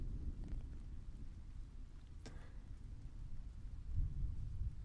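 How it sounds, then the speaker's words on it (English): Rain falling under a canopy of trees, a steady dense wash of patter with a low rumble beneath it, swelling slightly toward the end. "I remember hearing, truly hearing, the sound of the rain as I sat under the canopy of trees"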